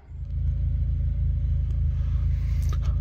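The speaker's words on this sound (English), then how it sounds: "I'm just going to take it out now for a short drive around, nothing too strenuous" A Renault Sport Twingo 133 with a misfire runs on a short test drive, its engine a steady, close, low rumble that settles in quickly and holds at an even level without clear revving.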